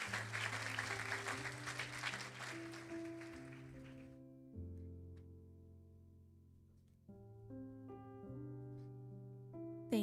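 Applause for graduation speakers at a senior class ceremony, a crowd clapping for about four seconds before fading out, followed by quiet sustained instrumental tones.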